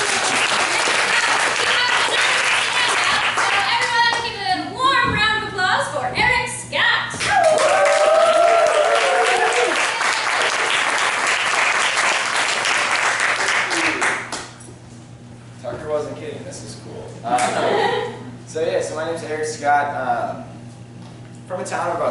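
Dense audience applause at a live late-night comedy show in Madison, Wisconsin fills the room for several seconds while a voice speaks over it. The clapping then thins as talking takes over.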